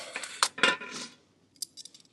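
Metallic clinks and rattles of a light aluminum camping frying pan being handled up close, a quick cluster of clatters followed by a few softer taps.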